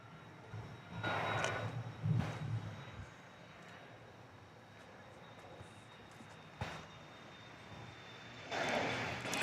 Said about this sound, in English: And I'm hearing a plane now.